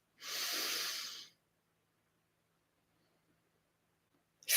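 Deep diaphragmatic breath drawn into the belly during a guided meditation class, one close, soft airy inhale lasting about a second, followed by near silence and the start of another breath at the end.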